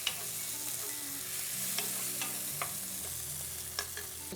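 Soft tomatoes get crushed and stirred in a pot of beef stew over medium-low heat, giving a steady low sizzle with scattered sharp scrapes and taps of a utensil against the pot.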